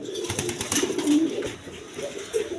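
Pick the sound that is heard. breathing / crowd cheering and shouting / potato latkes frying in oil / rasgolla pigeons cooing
rasgolla pigeons cooing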